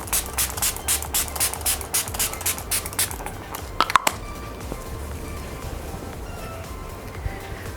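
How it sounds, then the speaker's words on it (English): Faces Canada makeup fixer is spritzed onto a face in about a dozen quick, even bursts, close to the mic. Then come a couple of sharp clicks and a quiet room. "Now last step is to spray some makeup fixer."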